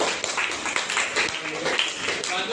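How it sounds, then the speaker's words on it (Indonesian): Students clap together for a presenting group in a classroom, a dense, steady burst of applause from a small group filling the whole moment without pause. "kita beri tepuk tangan untuk kelompok 1"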